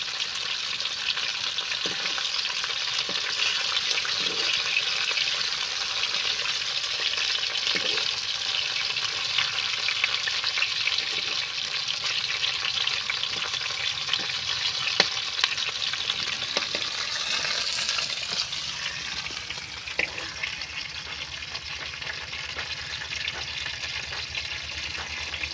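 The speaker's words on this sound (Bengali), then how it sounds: "মাছগুলো ভাজা হয়ে গেছে, এবার আমি তুলে নেবো একটা একটা করে।" Fresh pond rohu fish pieces frying in oil in a pan, a continuous loud close sizzle holding steady throughout with a few faint taps of a utensil and no talk.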